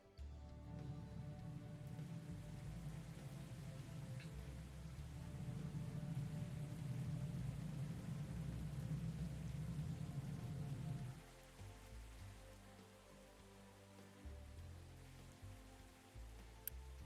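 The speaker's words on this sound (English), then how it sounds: "Raining, thank goodness." Rain falls steadily in the video game Captain of Industry, a continuous hiss with a low rumble, loud at first and then dropping in level partway through.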